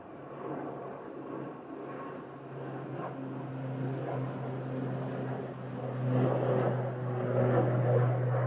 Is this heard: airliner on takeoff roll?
yes